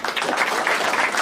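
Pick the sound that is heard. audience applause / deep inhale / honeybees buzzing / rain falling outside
audience applause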